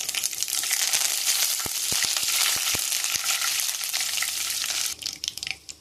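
Curry leaves hit hot oil already holding mustard seeds, fenugreek and cumin, producing a loud, steady sizzle scattered with sharp crackles and pops that drops off abruptly near the end.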